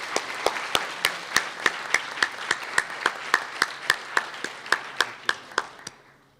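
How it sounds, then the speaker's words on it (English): Audience applause at a university fireside chat on supporting innovators, heard as a rhythmic, evenly spaced clapping that carries over a softer bed of scattered hands, staying steady before fading out at the end. "So let's give them a big round of applause"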